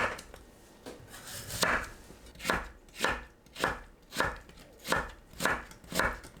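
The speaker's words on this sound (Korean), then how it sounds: "무를 채 썰어줍니다." Radish being julienned with a knife on a cutting board, a steady rhythm of about eight distinct chopping strokes, close and clear with no talking.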